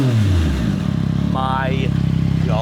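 Yamaha R9 sport motorcycle fitted with a Yoshimura exhaust revs loudly and close: a low engine drone climbs steadily in pitch, while someone speaks over it.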